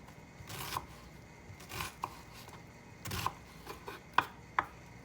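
A kitchen knife dicing an onion on a cutting board: several quiet, crisp chops at an uneven pace, the last two sharper and louder, with no one speaking.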